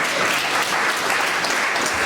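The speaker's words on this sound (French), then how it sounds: "cela mérite quelques applaudissements" Applause from a crowd at a farmers' forum gathering with a minister of state present, loud, dense and unbroken clapping filling two seconds close to the microphone.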